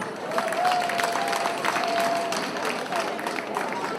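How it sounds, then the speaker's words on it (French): A crowd applauds at a cultural day event in Libreville, Gabon, honouring a visiting king. The clapping is dense and loud, and a sustained whistle-like tone and some crowd noise are mixed in. "je profite de l'occasion pour demander un très grand applaudissement"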